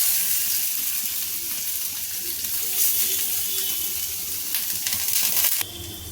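Chicken tikka pieces fry in an oiled frying pan over a low gas flame, giving a steady close sizzle with watery hiss that shifts near the end.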